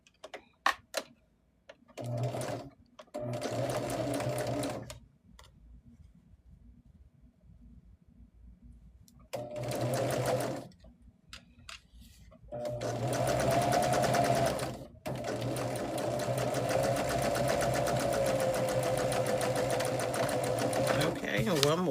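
A home sewing machine stitches table-topper quilt blocks in bursts of steady whirring, some short and some longer, with pauses between them and a person talking over parts of it.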